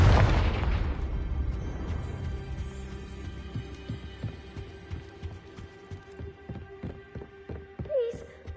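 A Confringo fire spell blasts in Hogwarts Legacy: a loud, sharp burst opens the moment and fades into a low rumble, with a steady hum and a string of soft rhythmic thumps after it.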